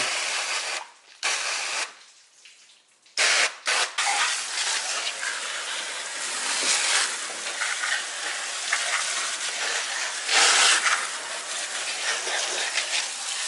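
A loud, continuous hissing spray of soap and water onto a Corvette engine bay runs nearly throughout, broken by a couple of brief pauses early on.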